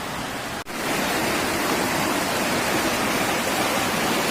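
Mountain stream in Shohimardon rushing loudly and steadily, a dense broadband roar of fast, icy water heard close by with no voices.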